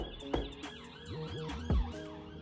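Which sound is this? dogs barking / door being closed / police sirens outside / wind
police sirens outside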